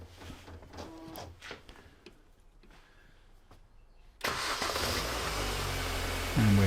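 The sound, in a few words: car engine running during exhaust back pressure test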